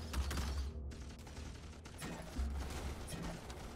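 Troopers fire their guns in the Starship Troopers: Terran Command video game, a dense, fairly quiet rattle of shots layered with clattering game effects and no speech.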